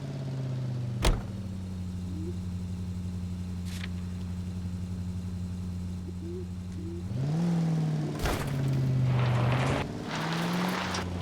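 A car driven in the video game L.A. Noire, a steady mid-pitched engine hum that rises as it accelerates partway through, with a few sharp clicks and knocks.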